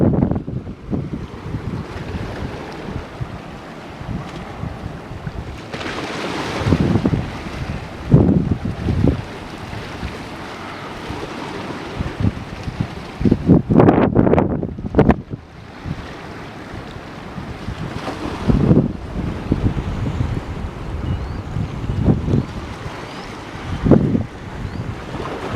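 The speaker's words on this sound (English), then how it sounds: "Nothing like the sound of the ocean." Ocean waves surge and break on Inverloch beach in repeated swells, mixed with gusty wind buffeting the microphone, loud and close and rising and falling irregularly.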